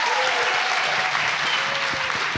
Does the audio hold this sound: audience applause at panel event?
yes